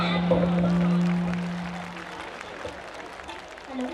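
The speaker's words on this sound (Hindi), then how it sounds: "एक बार इन नन्हे मुन्ने सितारों के लिए जोरदार तालियां बजाएं" An audience at the MIT cultural fest Utkarsh 2022 applauds young child performers, a broad wash of clapping that swells early and then thins, with a steady hum ringing through the first half.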